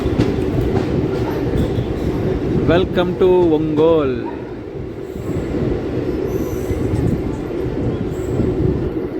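A MEMU passenger train pulls into platform 1 at Ongole railway station with a continuous heavy rumble of rolling wheels and a burst of high, wavering wheel squeal, while someone speaks close by.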